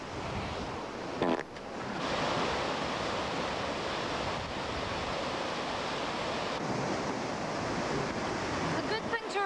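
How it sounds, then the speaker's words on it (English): A roaring waterfall in New Zealand, a steady, loud broadband rush of falling water that fills the whole clip, with a brief dip near the start and no voices. "It's quite a waterfall."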